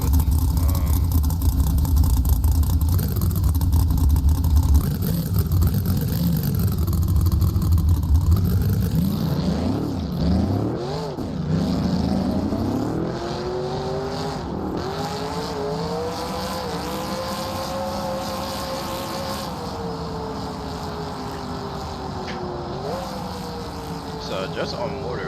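Chevrolet Monte Carlo engine in the BeamNG.Drive racing game, revving loudly with rising and falling pitch sweeps as it accelerates through gears, continuous and up close, with someone talking over parts of it.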